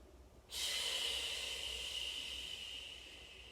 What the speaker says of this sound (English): Start that nice controlled breathing here.